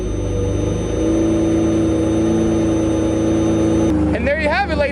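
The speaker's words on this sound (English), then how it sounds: "Now you've got yourself a running Murcielago." Straight-piped Lamborghini Murcielago engine starting and running: a loud, steady, deep exhaust drone holds nearly unbroken for about four seconds, then shifts as a voice speaks over the running engine.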